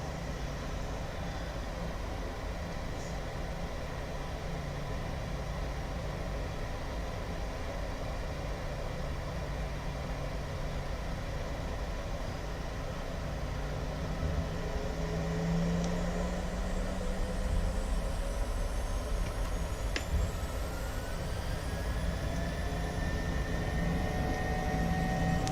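A Southwest airliner rolls down the runway for takeoff in Microsoft Flight Simulator 2020, a steady engine roar and rumble that swells louder in the second half, with a rising whine joining near the end.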